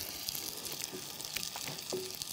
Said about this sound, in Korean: 기름을 두르고 기름도 온도가 좀 올라간 상태에서 해주셔야지 기름을 흡수하지 않고 오히려 전을 더 바삭하게 만드는 데 도움을 주거든요